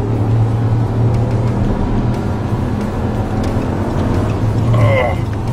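A 2009 Dodge Ram pickup truck engine roars steadily at close range while accelerating, a continuous low drone with road noise, no break in the sound.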